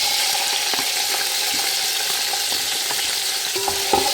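Onions fry and sizzle in a karahi, a steady close hiss with light stirring taps and clinks, plus a faint trickle of water near the end.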